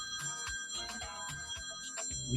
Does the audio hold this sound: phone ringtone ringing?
yes